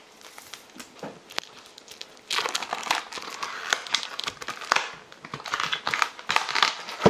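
Packaging around a delivered book being torn and opened, with close crinkling, rustling and crackling in uneven bursts that grow busier toward the end, and no talking.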